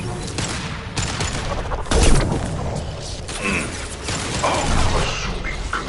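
Bursts of rapid gunfire from the video game Mass Effect 2 crackle across the clip, with a heavier impact near the two-second mark amid mechanical clanks and game effects.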